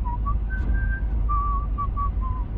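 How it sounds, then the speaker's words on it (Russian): A person whistles a short wavering melody, clear and close, over a low steady rumble of background noise. "И он вдруг свистит."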